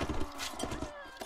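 Cavalry horses gallop with clattering hoofbeats and neighs during a Mount & Blade: Warband battle, a busy, close mix of game sounds with a voice speaking over it.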